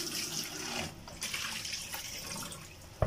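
Tap water runs steadily over fish being rinsed before grilling, a close, continuous splashing with no talk and a small knock at the end.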